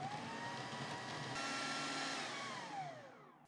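Food processor whizzing bread into breadcrumbs, a steady, fairly quiet motor whir with gritty grinding, running continuously before winding down at the end.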